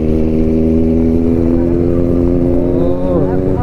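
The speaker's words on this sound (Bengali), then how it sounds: "সুপার বাইকের একটা আওয়াজ" A fully modified, wrapped superbike engine idles and revs loud and close, a deep throbbing drone with rising and falling harmonics that carries on throughout.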